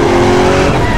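A car swerves with tires squealing over a loud, rumbling engine in one brief, dense burst of skidding.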